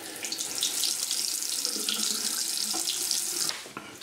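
Water runs steadily from newly fitted bathroom basin taps into the sink, a continuous hissy splashing stream at close range that cuts off near the end.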